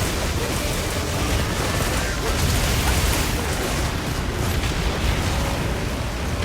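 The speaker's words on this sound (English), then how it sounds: "This explosion attack is like always so damn cool to see." A monster's explosion attack in the video game Monster Hunter Wilds: a loud, sustained roaring blast of dense rumble and crackle that fills the whole stretch without letting up.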